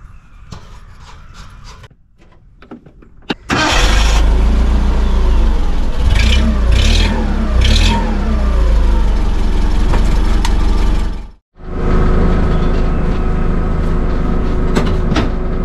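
The engine of a 1997 Yale forklift starts, then runs loud and steady as the machine drives, its low rumble rising and falling with throttle, with a brief cut near the end and no speech.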